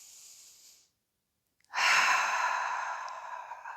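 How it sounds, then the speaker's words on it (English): A single long, deep breath taken during a stretching exercise that lifts the ribs away from the pelvis. It follows a short pause and comes as one loud, airy rush that slowly fades. "Take a nice deep breath."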